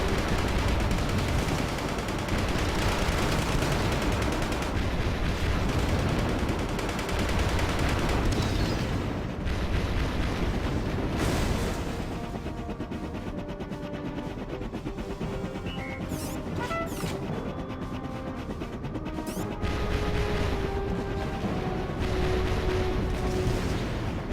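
Dense, continuous gunfire and booming blasts in Battalion Wars 2 roar for the whole stretch, loud and chaotic, with rapid bursts layered over heavy explosions.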